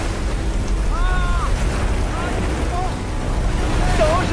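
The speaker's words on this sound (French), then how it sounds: "La tempête est arrivée si vite." A storm at sea roars with heavy wind and crashing waves around a ship, a loud, continuous rumbling wash with brief voices over it.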